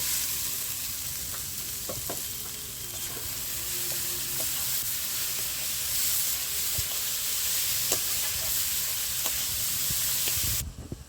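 Chopped onion hitting a pan of frying garlic paste, a steady dense sizzle with a few sharp crackles and pops, loud and close throughout, cutting off abruptly near the end.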